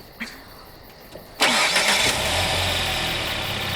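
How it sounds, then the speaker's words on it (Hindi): A car engine cranks after a few faint knocks, then catches with a loud burst and settles into a steady, rumbling idle close by, with no talking. "क्रिस्टीन, क्या तुम इंजन चालू कर सकती हो?"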